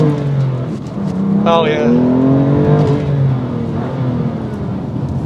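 A 2020 BMW M2 CS accelerating hard, its engine note climbing steadily through the revs with a loud, sustained growl heard from inside the cabin, as someone speaks briefly over it.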